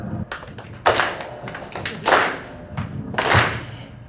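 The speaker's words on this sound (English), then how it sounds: "You keep clapping." An audience at a Hmong community evening event claps in uneven bursts, swelling and fading across a few seconds of close, scattered hand claps.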